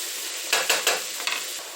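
Potatoes boil in a pot for potato soup, a steady close hiss of bubbling broken by a few quick metallic clinks and scrapes of a utensil against the pot, with no talking.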